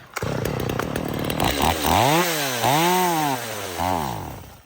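A chainsaw engine starved of fuel revs loudly, then repeatedly sags and surges in pitch as it sputters and bogs down, running unevenly before fading at the end.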